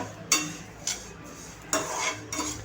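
Mixed polished and unpolished sesame seeds dry-roasting in a pan over a medium flame, heard as a low rustle broken by a few loud scraping, stirring strokes at uneven intervals, close by and with no talk.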